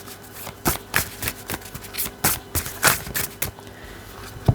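Oracle cards being shuffled by hand, a run of quick, close riffling bursts in an uneven rhythm, with a soft tap as a card drops at the end.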